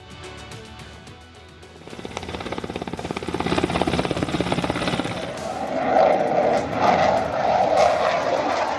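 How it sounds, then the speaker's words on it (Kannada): Indian fighter jets fly over the Ganga Expressway in a loud, sustained roar that builds in the second half and stays steady and close, with no talk over it. "ಭಾರತೀಯ ಫೈಟರ್ ಜೆಟ್ಗಳು ಗಂಗಾ ಎಕ್ಸ್ಪ್ರೆಸ್ ವೇನಲ್ಲಿ ಶಕ್ತಿ ಪ್ರದರ್ಶನ"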